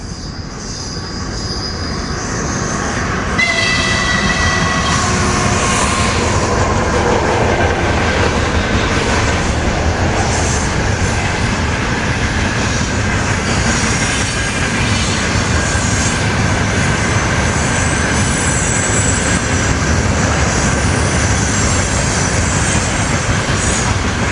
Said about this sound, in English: Yeah, it's a cargo train.